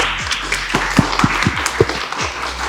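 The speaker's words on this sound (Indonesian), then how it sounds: "Tepuk tangan dulu dong." Audience clapping at a talk show event with teachers, a brief scattered round of claps with a few distinct sharp hits standing out near the microphone over room background.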